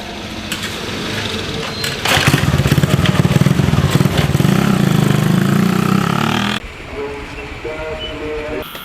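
Motorcycle ride through a village, the engine running loud and steady with a rough, buzzing drone and a burst of acceleration partway through before the noise drops to a quieter idle.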